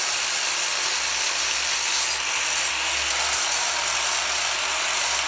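Steady, continuous abrasive grinding on weld spots on the body of a 1964 Ford Fairlane race car, a loud unbroken hiss with no talk.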